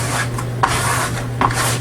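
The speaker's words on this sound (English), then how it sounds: "So you need some more squeegee time" A squeegee rubs a decal onto a plastic side cover, making a close, steady scraping rub with two brief firmer swipes.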